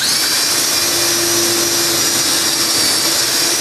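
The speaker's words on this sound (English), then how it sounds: "So I've got my drill bit set up with the stop collar. And I just need to drill these holes." A steady, loud whine of a power drill fitted with a stop-collar bit, drilling holes in a walnut case base, runs continuously at close range, with no pauses and no voices.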